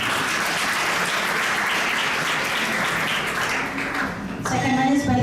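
Audience at a one-day national seminar on bio-manufacturing applauding during a valedictory session, sustained loud clapping for about four seconds before a voice takes over at the end.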